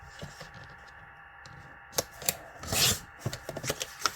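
Patterned craft paper being cut down to a 6-inch strip, heard as quiet scraping and rubbing that turns into sharp close snips and a brief rasping slice, faint and sparse with no speech.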